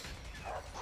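A dog in the video game A Way Out barks and yips in a brief, muffled outburst under thick background noise.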